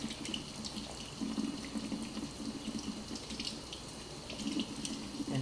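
Steady running tap water splashing into a sink while rinsing makeup brushes, a continuous broadband rush with slight fluctuations, close by and alone.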